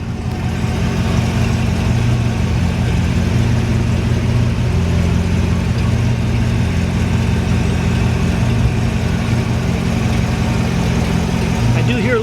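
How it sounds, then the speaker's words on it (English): A 1959 Chevrolet Impala hardtop idles with a slight exhaust leak, a steady, low rumbling engine drone that stays constant and fairly close throughout, with no noticeable revving. "I do hear a little bit of an exhaust leak."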